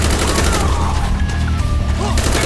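Sustained gunfire in Call of Duty: Black Ops, a loud, unbroken rattle of rapid shots and explosions throughout, with faint voices mixed in.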